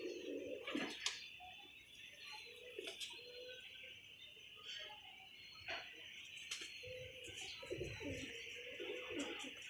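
Pigeons coo softly and repeatedly in a coop as a male courts a female. The low calls come intermittently, with a few clicks and rustles in between.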